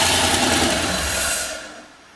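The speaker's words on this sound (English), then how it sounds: "We put a little bit of oil inside the top of the turbo to lube it, and we're gonna fire it up." Turbocharged LS engine in a Miata kart starting up, a loud, rough burst of engine noise that holds for over a second and then cuts off abruptly into quiet.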